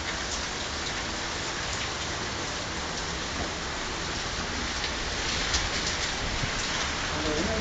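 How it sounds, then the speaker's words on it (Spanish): Heavy rain, the first big downpour of the season in Hermosillo, Sonora, hisses steadily onto roofs and palm trees, dense and constant for the whole stretch with faint voices underneath. "Pues es la primera lluvia grande aquí en Hermosillo"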